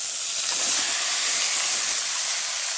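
Bottle gourd hits hot oil already seasoned with bay leaf and cumin for a prawn curry, giving a loud, steady hiss of sizzling that holds evenly without a break.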